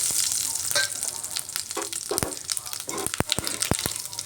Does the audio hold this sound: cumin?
yes